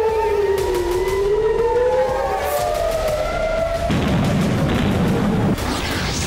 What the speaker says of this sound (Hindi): हिजबुल्लाह के हमलों से इजरायल के कई शहरों में सायरन गूंजने लगे।